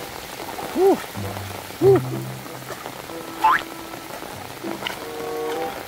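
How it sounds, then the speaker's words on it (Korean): Heavy rain pours onto water during a freshwater fishing trip in a downpour, a dense steady hiss with a few louder splashes and short voiced exclamations. "비가 생각보다 비가 와도 너무 많이 오기 때문에"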